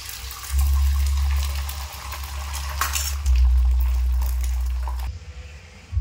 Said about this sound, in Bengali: কারণ তেলটা তেতে গেছে। এবার ডিমটা দিয়ে দিই।